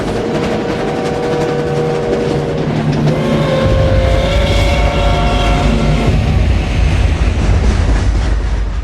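A train carrying prisoners rumbles loudly and steadily nearby, wheels clacking on rails with a heavy low roar that swells partway through.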